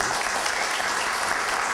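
A citizen security committee gathering breaks into thick, continuous applause, a loud and close wall of many hands clapping together without pause.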